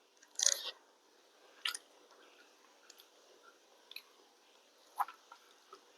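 Someone eating fried greens with okra in a Bangladeshi home meal, giving a few soft, close crunchy bites and chewing sounds spaced out with quiet pauses between them.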